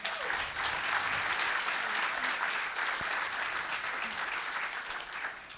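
A live audience applauds steadily and loudly throughout, a dense wash of many hands clapping without pause.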